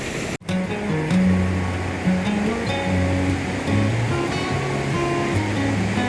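Rushing water of the Cascade River, a dense, steady roar of cascading flow that fills the scene continuously after a brief cut near the start, loud and close with no talking.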